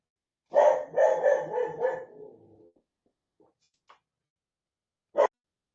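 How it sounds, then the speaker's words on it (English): A small dog barks in a rapid burst of several yips over about two seconds, then falls quiet, with a few faint ticks and one more short sharp bark near the end, fairly close and loud. "That was my little dog"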